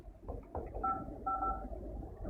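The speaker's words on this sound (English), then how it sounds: "I'm going to try and ring another phone here in the office." Two steady dual-pitch keypad tones from a Yealink VoIP desk phone dialing another office extension, each held about half a second with a short gap, over a low room hum.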